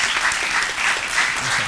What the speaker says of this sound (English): So can we have a massive round of applause for Professor Kehinde?